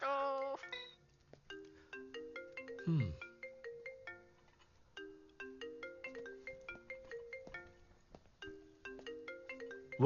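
A melodic electronic ringtone plays a repeating chime pattern several times, with a brief swooping sound early on, clear and fairly close.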